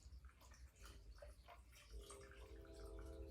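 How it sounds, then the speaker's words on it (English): Water splashes and trickles as it is poured into canning jars of sweet potatoes, a soft steady gurgle that fills in toward the end, close and fairly quiet. "So now we're going to add the liquids to the jars."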